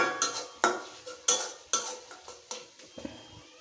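A utensil stirs an eggplant dish in a pan, scraping and clinking against the metal in steady, separate strokes about twice a second, close and fairly quiet with a faint sizzle underneath.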